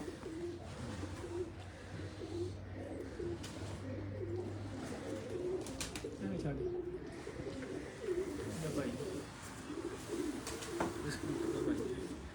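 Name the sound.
pigeons cooing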